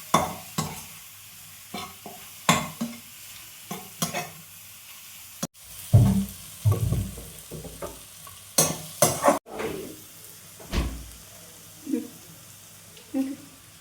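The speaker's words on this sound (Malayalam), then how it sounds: "നമുക്കിതിന് കുറച്ച് ബാക്കി ബാറ്റർ ഒഴിച്ച് കൊടുക്കാം." Leftover batter is poured into a pan and sizzles while making chicken pola, heard as bursts of frying crackle and stirring scrapes with quiet gaps between them, up close and without talk.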